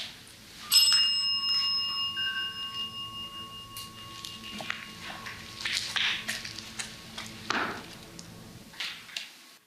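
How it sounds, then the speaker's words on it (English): A small bell rings once at night in the abandoned Pennhurst Asylum, with a clear, sustained tone that slowly fades, followed by faint scattered knocks and rustling in a quiet room. "Are you ringing the bell to let us know that you're down here?"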